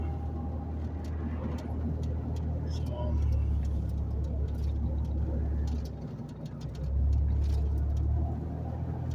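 Cars and other motor vehicles on a coastal highway near ocean-view lots, heard as a steady low engine and tyre rumble that swells and dips as vehicles pass close behind, with no talk over it.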